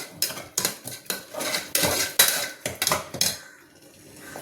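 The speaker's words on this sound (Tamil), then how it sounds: "எல்லாத்தையும் நல்லா மிக்ஸ் பண்ணி கொஞ்சம் வதங்கட்டும்" A metal spoon scrapes and clanks against a cooking pan while chana masala is stirred, a brisk series of close, loud knocks and scrapes in an irregular rhythm, easing off toward the end.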